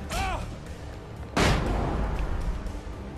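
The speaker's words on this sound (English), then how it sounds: "Flash grenade. Does wonders." A flash grenade goes off in the game Alan Wake, one sharp, loud crack that spreads into a broad roar after a brief strained vocal cry.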